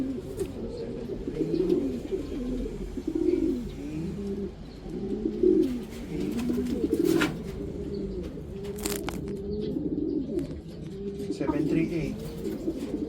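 Racing pigeons coo repeatedly at their loft in soft, rolling, throaty phrases, with an occasional wing flutter and brief human voices in the background.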